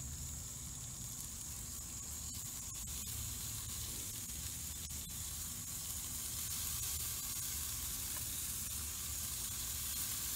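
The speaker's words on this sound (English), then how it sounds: "I love hearing that sizzle." Kebabs sizzle over white-hot charcoal on a grill, a steady, close, broadband hiss and crackle running unbroken the whole time with no talk.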